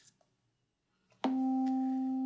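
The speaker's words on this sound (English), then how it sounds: "So if we listen to that C drone with the metronome" A steady electronic C drone tone, played as a backing for tuba long-tone practice, starts abruptly after a short near-silence and holds constant and loud, preceded by faint clicks.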